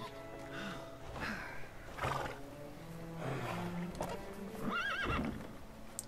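Horses neigh and whinny repeatedly in the Lego The Hobbit video game, several loud drawn-out calls close by with clip-clop hoof sounds beneath.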